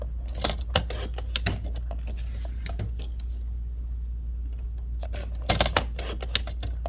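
A paper trimmer slices cardstock in quick crisp bursts, a cluster of sharp cutting strokes early and another near the end, faint and close against a low steady background hum.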